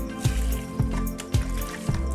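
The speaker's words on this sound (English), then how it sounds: "we're just going down the lane just to water the plants" Water trickles and drips while potted bougainvillea in a backyard garden are watered, with soft splashes recurring about every half second over a low background.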